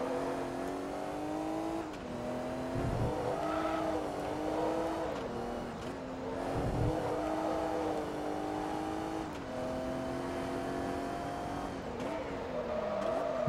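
Race car engine droning steadily through gear changes, with tire noise and occasional rev dips, from Forza Motorsport 2 during a Risi Competizione 600HP invitational race; continuous and loud throughout.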